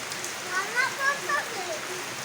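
Rain falls at night after ten o'clock during a lightning storm, a constant close hiss with a person speaking briefly over it.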